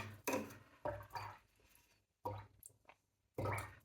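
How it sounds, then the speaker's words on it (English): Four quiet, separate bursts of swishing and dripping as a watercolor paintbrush is rinsed in a water jar, each short splash separated by near-silence. "So I'm going to just clean my brush."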